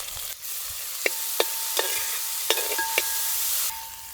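Sesame oil sizzles steadily as cumin, crushed shallots, ginger and garlic are tempered in a pan, with several sharp utensil clicks and taps punctuating the continuous frying hiss.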